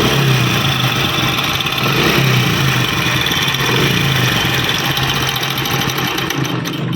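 A motorbike engine with a fault noise runs close by, a continuous idle with a constant rattling, buzzing drone that holds a steady level for several seconds and has no talk over it.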